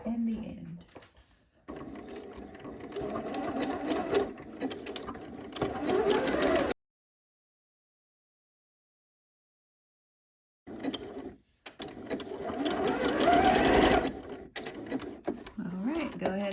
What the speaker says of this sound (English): we're gonna go to the sewing machine and we're gonna stitch from the bottom to the top using 5/8 of an inch seam allowance with a zigzag stitch